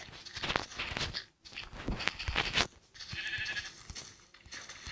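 Sheep in Minecraft bleat repeatedly in overlapping calls, mixed with shuffling and scuffing noises close by.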